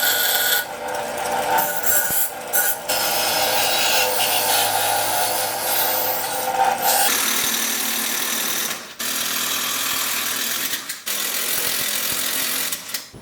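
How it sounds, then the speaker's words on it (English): A grinding wheel smooths sharp metal edges during an intercooler install on a twin-turbo Chevrolet Silverado, giving a loud, steady abrasive rasp that drops out briefly around the middle and again near the end. "I'll use this wheel to kind of smooth out the edges."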